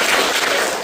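Seminar audience clapping together in a short, dense burst of applause, steady and fairly loud for under a second.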